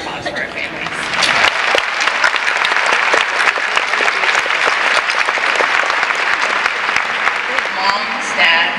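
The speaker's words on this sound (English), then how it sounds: "give a round of applause for our families" A college graduation audience gives sustained, dense applause for the families, a loud crowd of clapping hands that swells slightly then holds, with scattered voices and cheers beneath.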